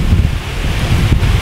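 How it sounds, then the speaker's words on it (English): Outdoors beside an abandoned cabin being prepped for a temporary bridge, wind blows steadily and loudly across the microphone, a brief continuous rush with no speech. "Yeah, it's a little windy."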